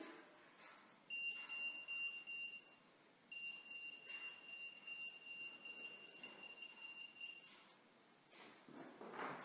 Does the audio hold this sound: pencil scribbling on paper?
no